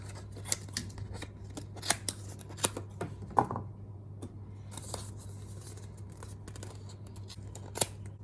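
Scissors snip through paper cups to trim off the handles, giving a series of sharp, close cuts spaced irregularly over a low steady hum, with quieter stretches between the snips.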